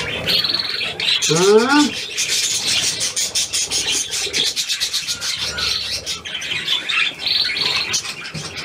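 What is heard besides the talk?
seagull calling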